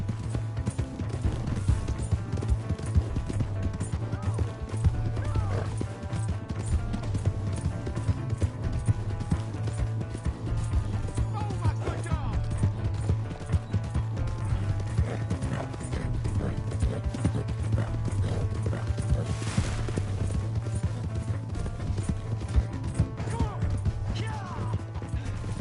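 Horse hooves pounding in a steady galloping clip-clop in the Western video game Red Dead Redemption 2, continuous and close throughout, with tack rattling, game music and occasional voices underneath.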